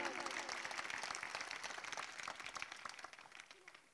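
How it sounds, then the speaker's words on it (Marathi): Loud crowd applause at an outdoor public speech in a village, a dense burst of clapping that gradually thins and fades over a few seconds. "एकदा गावकऱ्यांसाठी जोरदार टाळ्या होऊन जाऊ दे"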